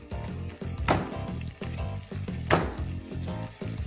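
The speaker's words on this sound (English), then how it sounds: "While this is sauteing in the pan, let me add in a few pods of garlic." Ginger sauteing in oil in a pan for an okra fry, a continuous soft sizzle with two sharper bursts where the pieces are tossed or stirred, close but fairly quiet.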